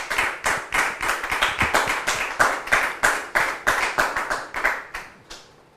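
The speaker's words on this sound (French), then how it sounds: "sous vos applaudissements, s'il vous plaît." Studio audience on a French talk show clapping together in a rhythmic, regular beat, about two or three claps per second, loud and close, stopping abruptly near the end.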